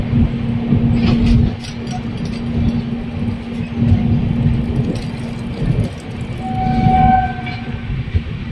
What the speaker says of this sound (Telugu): మీటర్ గేజ్ ట్రైన్, చిన్న ట్రైన్ అంటారు దాన్ని